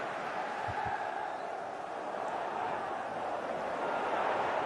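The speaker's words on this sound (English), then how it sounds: "You can hear the crowd even now." A large stadium crowd at a Liverpool versus Manchester City football match roars in a steady, distant wash of cheering and chanting that holds without a break.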